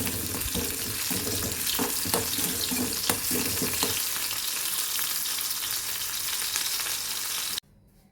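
Onions being lightly heated in a pan for a prawn chutney give a close, steady crackling sizzle with clicks of stirring, then cut off abruptly near the end.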